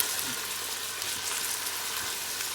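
Onions sizzle steadily in a pot for lamb stew while being stirred, a continuous close frying hiss with faint scraping underneath, no voices.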